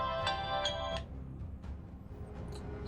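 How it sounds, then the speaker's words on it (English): Phone ringtone of an incoming call chiming in a few repeated melodic bursts, then fading into background game sound from a space strategy battle. "Just got a phone call"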